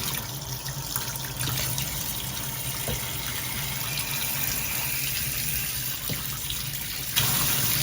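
A regular shower head sprays water in a continuous, steady hiss, close and loud, with a brief change in the flow near the end.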